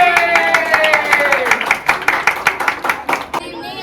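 Children in a classroom on Children's Day clap loudly for a group presentation, a steady burst of close, rhythmic applause with talk mixed in.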